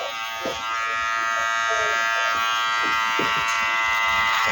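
Electric hair clippers buzz steadily and close up while cutting a man's hair short in a high tapered cut, their whine shifting slightly as they move through the hair with brief snips and rustles.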